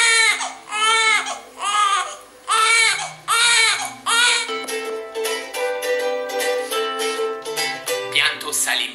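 Wailing, sobbing cries of the traditional Salento lament, played back as a recording: long rising-and-falling wails in regular bursts, loud and close, later blending into a denser, continuous mournful sound.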